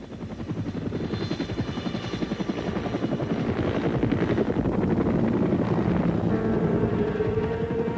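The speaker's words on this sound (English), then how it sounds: "the sounds and sights of helicopters were never far away" A military helicopter of the Vietnam War flies overhead, its rotor thumping in a rapid steady chop under a broad engine roar that swells slightly louder as it passes, with no voices.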